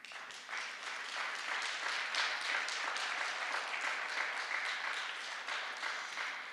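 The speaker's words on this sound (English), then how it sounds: "I just want to give you a round of applause for being a shero." An audience applauds an honoree at a city proclamation ceremony, with dense, steady clapping from many hands that holds at an even level throughout and no talking over it.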